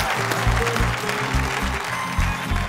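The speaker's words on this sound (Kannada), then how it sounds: "ಇಬ್ರಿಗೂ ಜೋರ್ ಚಪ್ಪಾಳೆ" Loud, dense applause from a studio audience on a Kannada TV talk show, steady clapping throughout with no talk over it.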